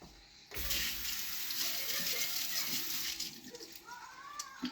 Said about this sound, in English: I'm gonna strain it into the bigger jar